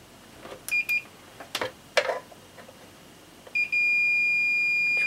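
A multimeter gives short continuity-test beeps during a Yamaha RX-550 receiver repair, a couple of brief tones and clicks early on, then a steady sustained beep near the end as the probes make contact.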